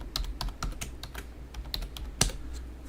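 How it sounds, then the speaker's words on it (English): Quick, uneven keystrokes on a computer keyboard while entering text in SolidWorks 2016 drafting software, fairly quiet and close, with one sharper key clack near the end. "I'm going to go ahead and type in"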